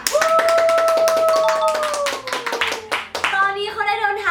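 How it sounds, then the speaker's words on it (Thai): Rapid hand clapping welcomes Sony WF-1000XM3 wireless earbuds at an unboxing, with a voice talking over the claps before they fade. "ปรบมือให้กับ Sony WF 1000 X Mark 3ค่ะ"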